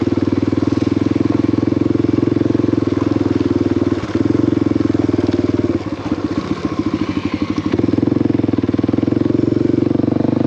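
A 2020 Honda CRF250L Rally motorcycle engine drones steadily and close while riding a trail, with a brief rattling, clattery stretch partway through before the engine note settles back in.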